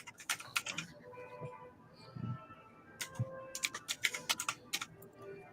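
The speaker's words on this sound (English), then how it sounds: "He just types hard." Someone hammers hard on a loud computer keyboard in an office, sharp uneven bursts of clacking separated by brief pauses, close and alone.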